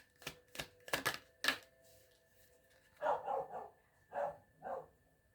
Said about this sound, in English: Sorry about dogs.